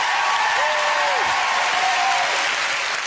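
A studio audience at a family game show applauds steadily, a dense wash of clapping filling the room at full volume, with a few faint tonal sounds and a voice underneath.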